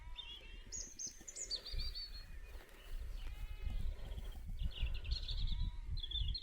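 Outdoor countryside ambience on a Northumberland hill fort with high bird calls, including bubbling curlew trills and cuckoo notes, alongside bleating sheep and steady wind rumble.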